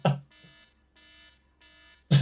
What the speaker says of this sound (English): he just keeps on with the alarm.